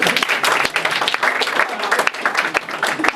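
Comedy club audience breaking into a loud, sustained round of applause, dense clapping from a crowd filling the room throughout.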